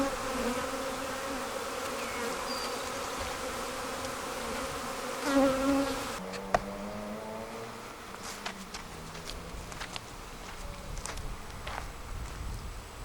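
Honey bees buzz around a red hive, a dense, continuous droning swarm that drops suddenly to a lighter hum, with individual bees passing close now and then.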